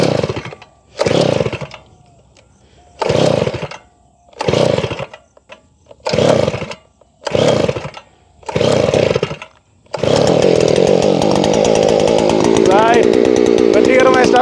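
A small petrol engine with a carburettor is pull-started in a string of six short, sputtering bursts, each dying out, before it catches and keeps running loud and steady.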